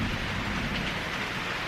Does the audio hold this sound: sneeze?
no